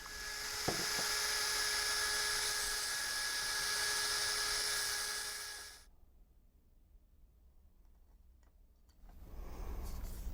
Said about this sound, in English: I just need to drill 2 holes so the wires can poke through.